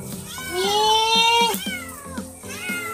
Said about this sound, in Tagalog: Kini kay, mapakaon ko sa akong mga alaga na iring.